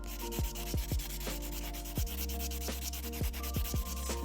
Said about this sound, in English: I'll just use a buffer for this one.